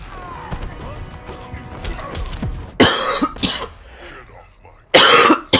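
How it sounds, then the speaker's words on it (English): Sharp, loud coughing fits burst out twice, close to the microphone, over a background of video game sounds and low clattering from a Superman ladder fight. "There goes the cough."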